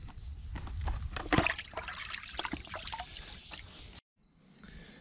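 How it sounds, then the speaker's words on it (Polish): Groundbait for bleak fishing drops into water with a few splashy plops and trickles, close and fairly quiet, ending in a brief silence. "Jeszcze zobaczymy jak to wpada do wody."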